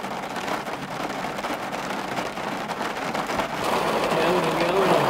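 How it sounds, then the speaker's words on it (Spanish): Heavy rain pours down in a dense, continuous hiss that grows slightly louder toward the end, with faint talk underneath. "Está lloviendo muy fuerte."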